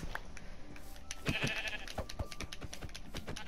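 Minecraft sheep bleat in short nasal calls around the middle of the stretch, set against a steady game background with soft clicks and thuds.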